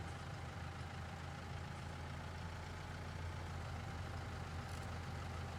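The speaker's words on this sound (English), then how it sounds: "Shut this tractor down here." A tractor engine idles in Farming Simulator 19, a low steady rumble that stays even and faint throughout with no one talking.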